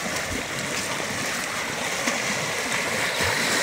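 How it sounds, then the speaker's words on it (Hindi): The Ghaggar river flowing steadily: a loud, continuous wash of rushing and gurgling water heard close up, with no break and no voices over it. "जिस तरह से बहता हुआ पानी,"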